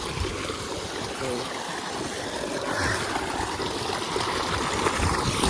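A cold, clear stream flows and trickles with a steady wash of water noise, close and fairly loud, as people wade into it; no voices stand out.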